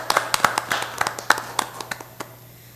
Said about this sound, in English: a big round of applause to all of our first place